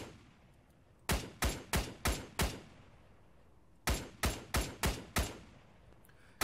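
Heavy gunfire in ARMA 3 comes in two bursts of five sharp, booming shots each, evenly spaced with a decaying echo after each one and a quiet pause between the volleys.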